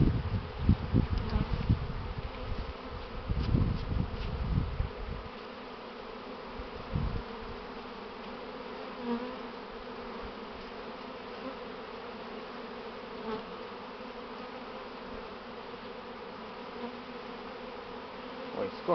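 A honey bee swarm buzzes inside old, tangled hop vines, a steady dense hum throughout, with heavy rustling and handling noise close by during the first few seconds before settling into continuous buzzing.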